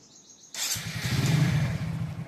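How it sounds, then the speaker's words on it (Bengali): A motorbike starts up with a sudden burst at about half a second, then settles into a steady, loud, close-up engine rumble that runs to the end, with no talking. "বাইকও দেখো স্টার্ট দিয়ে দিলাম"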